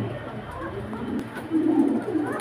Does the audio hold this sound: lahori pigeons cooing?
yes